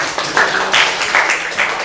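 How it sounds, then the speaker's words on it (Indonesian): A class of students claps for a classmate after a correct answer in a chemistry lesson, a dense, steady patter of many hands lasting a couple of seconds with no talk over it. "Kasih tepuk tangan buat Agel."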